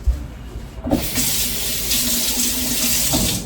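Garlic rinsed under a running kitchen tap: after a short clatter the water gushes on and flows steadily and loudly, close by, until the end.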